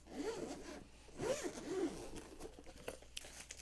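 Close, quiet rustling and a zipping, tearing sound as a Meletrix Boog75 keyboard package is handled and opened, in a few short bursts.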